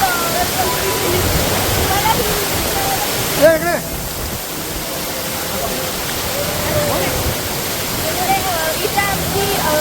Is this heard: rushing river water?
yes